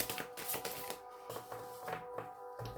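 Slippery cards are shuffled by hand, quick riffling bursts and soft flicks repeating in uneven rhythm, quiet and close over a faint background hum.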